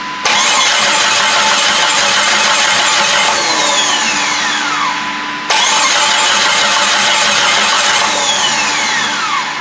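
A turbocharged Jeep Grand Cherokee engine cranks steadily on its first start-up, a loud continuous starter whir that drops off briefly near the middle before cranking resumes, with no talk over it.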